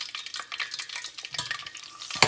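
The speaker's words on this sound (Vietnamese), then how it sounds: "Bắt đầu giờ mình bỏ cái mẻ sắt vào này, mình chiên hai lần." Hanoi-style fish cakes fry in oil in a pan, a close crackling sizzle with scraping stirs and a sharp metallic clink near the end.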